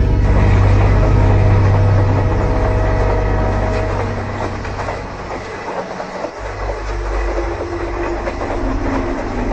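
A train rolls along a railway line with a loud, continuous low rumble and rattling of cars, dipping briefly before swelling again as it comes close.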